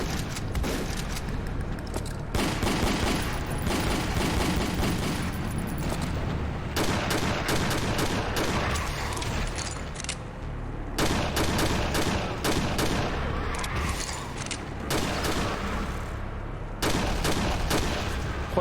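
Rapid, loud video game gunfire from Doom II fires in dense bursts and near-continuous volleys, separated by a few brief pauses, with no voices over it.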